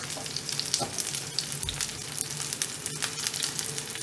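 Korean scallion pancake batter fries in a hot skillet with a steady, close crackling sizzle that runs throughout, with a few brief louder pops and no talking.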